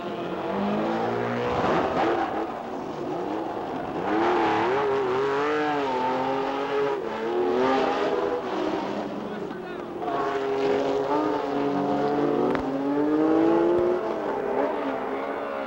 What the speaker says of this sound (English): Its 968 pounds is kicked along by a 1600cc 4-valve VDA engine